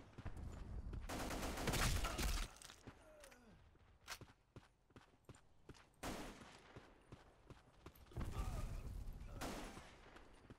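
Automatic rifle fire in the Black Squad shooter game, with loud sustained bursts followed by scattered single shots and a second heavy burst near the end, a voice speaking briefly in between.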